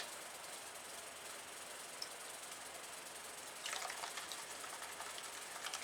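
Steady rushing water fills a gold pan as material is washed off, a continuous hiss that grows slightly rougher and splashier toward the end.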